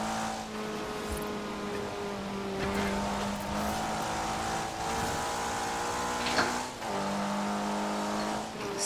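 Opel Astra engine hums steadily through a continuous drive in Forza Horizon 4, with gear-shift steps in pitch and a mid-loud, close, unbroken drone throughout.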